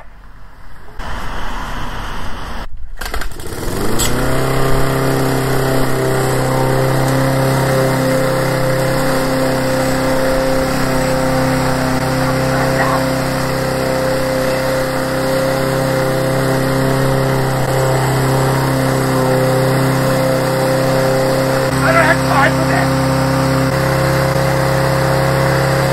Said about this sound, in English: We're gonna start the lawnmower.